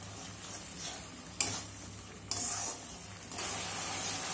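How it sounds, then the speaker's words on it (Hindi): Pomfret masala fries in a pan with a soft, quiet sizzle, broken by a few sharp scrapes and clinks of a spoon stirring and tapping the pan. "और अब हम इसको अच्छे से भूनेंगे।"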